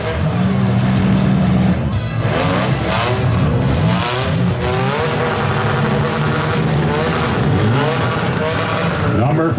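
Cars at a Schomberg demolition derby rev loudly and grind against one another in a mini smash heat, a continuous roar of engines and scraping metal with an announcer talking over it.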